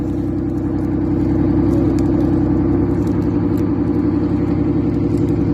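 Steady low engine rumble of a slowly moving vehicle, close by and continuous, with a faint whir on top and no talking.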